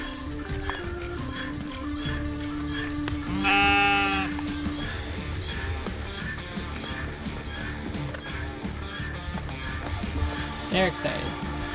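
Goats bleat excitedly while waiting for a treat, with loud, wavering calls rising over a busy farmyard din of animal noise and people talking.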